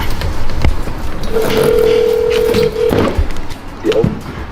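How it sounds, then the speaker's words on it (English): A phone call goes out while tuning a turbocharged Polaris RZR, with a clear steady tone lasting over a second followed by short tones, set against background noise and brief bumps. "Let me just call Pure Turbos right now."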